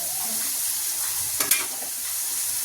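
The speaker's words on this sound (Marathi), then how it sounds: "दोन चमचे तेल टाकायचं आणि आता कांदा चांगला भाजून घ्यायचा." Onion frying in two spoonfuls of hot oil for a village-style okra dish, a steady close sizzling hiss with a brief stir in the middle, and no voices.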